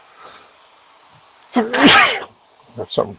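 A loud, close sneeze during a spoken interview, with a sharp burst in the middle of the clip followed by a couple of smaller bursts, set among speech.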